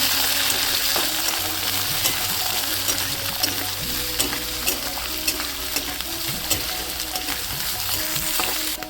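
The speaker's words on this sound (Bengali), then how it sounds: "এগুলো দিয়ে ভালো করে ভেজে নেব আমি" Beans sizzle steadily in a hot pan, with occasional stirring scrapes and pops throughout.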